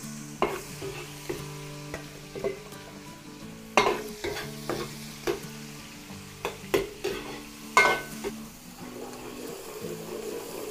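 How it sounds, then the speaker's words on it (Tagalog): Onions sautéing in a pan with browned garlic for a Filipino dish, with repeated sharp stirring clacks over a steady sizzle and a hum in the room. "lagay po tayo ng sibuyas."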